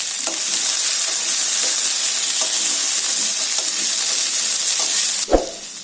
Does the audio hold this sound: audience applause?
no